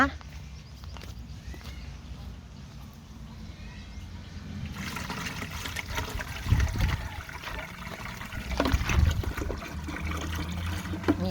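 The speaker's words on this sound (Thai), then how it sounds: "เดี๋ยวขออนุญาตเปิดสายยางน้ำแป๊บหนึ่งนะคะ" Water from a garden hose runs and splashes while seedlings are watered, starting faint and growing louder and rougher midway, with someone talking over it.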